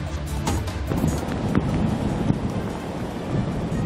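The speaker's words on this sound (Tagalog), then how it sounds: "Mabagsik ang mga alon, lalo rito sa bahagi ng karagatang sakop ng Barangay San Miguel sa bayan ng San Antonio." Heavy storm surf and strong wind pound the coast of San Antonio, Zambales during a storm surge warning, giving a dense, continuous roar with wind buffeting the microphone and no speech.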